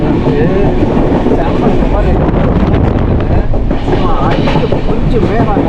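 The Deccan Queen train on Central Railway rushes along during a monsoon journey toward Lonavala, a loud, continuous rumble and clatter heavily buffeted by wind noise on the microphone.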